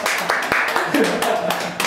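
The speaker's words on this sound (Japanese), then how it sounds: "ぜひ皆さん拍手のお迎えください。" A Japanese public speaking seminar audience claps to welcome a guest speaker, scattered clapping layered with the host talking over it and a few sharper claps standing out.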